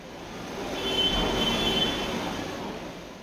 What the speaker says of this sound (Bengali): দুরন্ত এক্সপ্রেস আস্তে আস্তে করে প্ল্যাটফর্মে ঢুকছে,